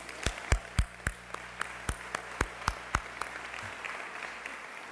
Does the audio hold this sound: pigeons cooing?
no